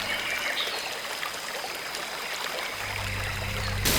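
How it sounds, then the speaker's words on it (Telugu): A large waterfall sends up a steady, broadband rush of falling water, loud and continuous throughout, with a brief thump near the end. "అబ్బా, ఎంత పెద్ద జలపాతం!"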